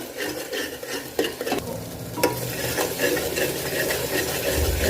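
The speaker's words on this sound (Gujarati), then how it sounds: "હજુ આપણે મસાલા શેકાવા દેવાના છે જ્યાં સુધીને આપણે તેલ છૂટું ના પડે ત્યાં સુધીને શેકાવા દેવાના છે" Spices roast and sizzle in hot oil in a pan for a pea and potato dish, with scraping stir strokes and occasional clinks over a steady close frying hiss.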